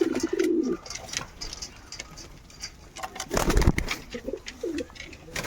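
A red Jira pigeon sitting with its mate in a loft gives a short coo at the start, then quieter cooing later over a brief noisy clatter.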